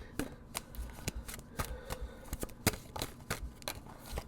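Tarot cards being shuffled by hand, a quick run of soft papery riffles and taps, close but quiet, with no talk.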